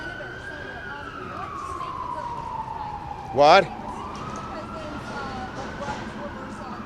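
A siren sweeps steadily past a press conference, a long rising-and-falling wail heard through the whole stretch under people talking, with a brief louder burst midway.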